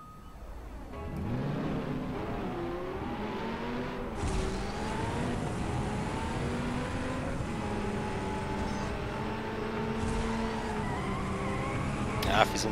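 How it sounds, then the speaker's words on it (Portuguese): Engine roar and tire squeal from a car racing and drifting in Need for Speed: Most Wanted on iOS, a steady loud engine drone with shifting pitch and screeching skids, with game music layered underneath throughout. "Ah, fiz um drift louco aqui."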